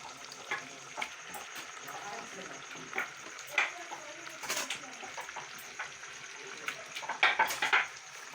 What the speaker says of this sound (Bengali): তো দেখো এখানে চিকেনটা রান্না হচ্ছে